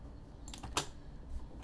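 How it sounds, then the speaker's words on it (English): A brief burst of keystrokes on a computer keyboard, a few quick clicks close by and quiet, with no talking. "I type Jaeger"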